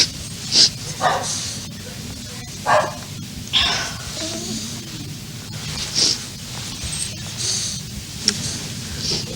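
A dog barks in short, sharp bursts now and then, sounding upset, over a steady background hiss in a room where little else is heard.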